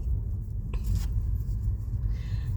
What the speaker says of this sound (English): I'm shuffling tarot cards while moving forward in a parking lot